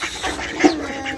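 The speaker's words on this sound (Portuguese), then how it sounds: "O ganso." A goose in a rural backyard with ducks hisses at close range, a breathy rasping hiss lasting about a second with one short squeaky honk in the middle.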